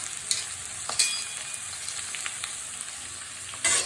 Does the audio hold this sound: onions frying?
yes